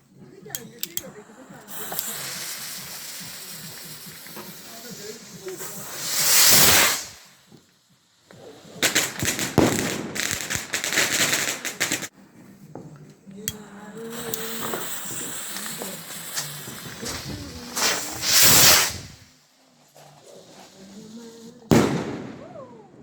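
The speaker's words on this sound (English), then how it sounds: "The Gatling gun by Cube Fireworks." Cube Fireworks Gatling gun firework fired outdoors on Bonfire Night in the UK, bursting in rapid crackling volleys with loud peaks and short pauses between, while people talk nearby.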